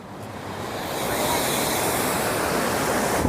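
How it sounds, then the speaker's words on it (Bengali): Hundru Falls pours over the Subarnarekha river, a steady broad roar of rushing water that builds slightly and holds, with a brief bump at the very end. "চারিদিকে জলের কলতান"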